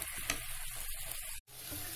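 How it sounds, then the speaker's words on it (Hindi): Ginger garlic paste and onions frying in a pan, a steady close sizzle with stirring scrapes, cut by a brief silent gap before the crackle resumes. "अब हम इसमें अदरक लहसुन का पेस्ट डाल देंगे। इसे थोड़ी देर भून लेंगे"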